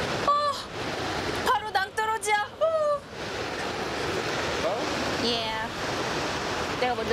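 Surf breaking on the steep volcanic Kalalau coast of Hawaii, a broad, steady wash of waves heard from a cliffside trail, with excited voices calling out over it in the first few seconds.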